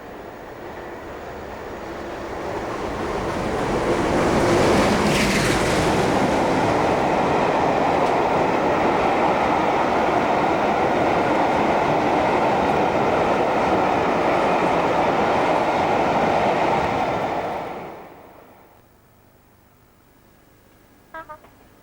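The Clan Line steam locomotive hauls a VIP special train past, a loud sustained rumble of running wheels that builds, holds and then fades away into quiet.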